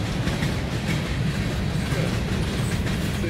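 Empty freight train railroad cars rolling past on a Norfolk Southern line, a steady, loud rumble with rattling wheels and clickety-clack filling the whole stretch, no talking.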